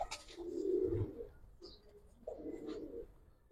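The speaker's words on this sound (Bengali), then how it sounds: "কবুতর গুলো কুকায় খালি।" Pigeons, giriboz and colored show birds, coo in a few low, throaty phrases close by. The calls come in two main bursts with brief gaps and no talk.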